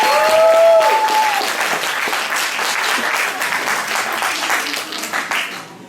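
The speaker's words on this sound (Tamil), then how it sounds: "அவர்களுக்கு மீண்டும் ஒருமுறை நமது கரவொலி எழுச்சி பாராட்டுகிறேன்" An audience at a Tamil debate event breaks into sustained, loud applause, dense hall-wide clapping that fades slightly toward the end, with a brief tone at the start.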